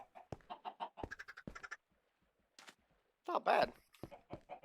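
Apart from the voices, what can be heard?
chickens clucking on a chicken farm in a block-building video game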